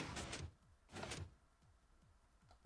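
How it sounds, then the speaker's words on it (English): Wooden door swinging open in Minecraft, two clear block-game door sounds about a second apart, followed by faint ticking clicks of redstone in the background. "Right, that door's open."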